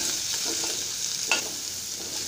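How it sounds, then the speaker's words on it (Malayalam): Chopped shallots sautéing in a pan, a steady frying hiss with a few soft stirring scrapes and one sharper clink, close and moderately quiet, without speech. "ഇനി നമുക്ക് അരിഞ്ഞു വെച്ചിരിക്കുന്ന ചെറിയ ഉള്ളി ഇതിലേക്ക് ഇട്ട് കൊടുക്കാം ആ ചെറിയ ഉള്ളി നന്നായിട്ടൊന്ന് വാടി വരണം"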